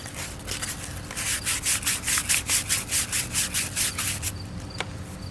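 Hand sanding of a piece of wood for a homemade rink rake gives a rhythmic series of about a dozen close, raspy back-and-forth rubbing strokes that stop, leaving a faint tap.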